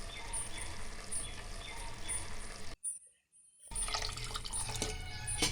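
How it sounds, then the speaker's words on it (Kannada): Water poured from a glass onto rice for vegetable pulao, a faint splashing, trickling pour that cuts out briefly midway and then resumes, close and quiet. "ನಾನು 1 ಗ್ಲಾಸ್ ಅಕ್ಕಿಗೆ 2 ಗ್ಲಾಸ್ ನೀರು ಹಾಕ್ಕೊತಾ ಇದ್ದೀನಿ"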